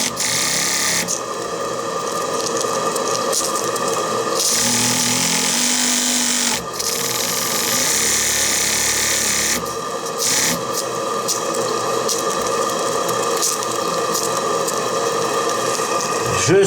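A repaired JPB 1.4 cc oscillating live steam engine running, a continuous rapid mechanical buzzing chuff that briefly cuts out and restarts a few times, close and fairly loud with no speech.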